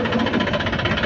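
A tractor engine runs close by with a low, steady rumble and rapid knocking pulse as the tractor turns in a field, brief and continuous with no voices.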